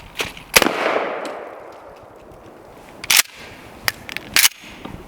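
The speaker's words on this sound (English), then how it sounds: "Next we're using Mossberg 590S." A Mossberg 590S shotgun loaded with mini shell buckshot is fired from the hip: a sharp blast with a short echoing tail, followed a few seconds later by a couple of quicker, sharper cracks and knocks.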